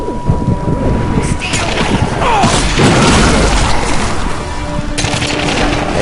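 Explosions and gunfire from the first-person shooter The Darkness II: dense, rumbling booms and crashes that stay loud and continuous across the stretch, with sharp bursts layered over a constant low roar.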